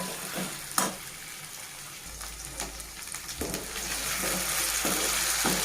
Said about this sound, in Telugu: ఇవి ఇలాగే ఒక 5 మినిట్స్ వరకు బాగా ఫ్రై చేసుకోవాలండి.